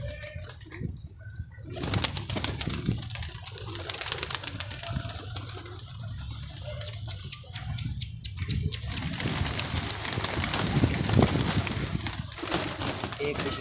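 Pigeons in a keeper's flock coo continuously, with low, throaty calls overlapping close by, while someone talks intermittently over them.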